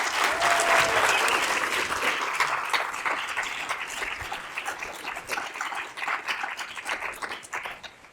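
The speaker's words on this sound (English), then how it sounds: "So please clap it up for Stephanie Mehta." Warm audience applause at a university colloquium, loud dense clapping at the start that gradually thins and softens while continuing to the end.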